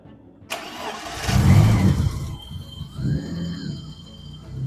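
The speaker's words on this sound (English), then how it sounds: "Okay, let's start the engine." A BMW E30 engine cranks and catches after a short quiet lead-in, then settles into a steady, close idle with a brief rise in revs, heard alone without any talking.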